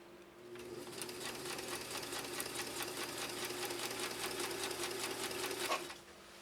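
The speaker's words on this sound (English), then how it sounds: "a simple little straight stitch we did" Kenmore sewing machine running a straight stitch through cotton fabric, a steady rapid needle clatter that holds for about five seconds and then stops, close and clear with no talking.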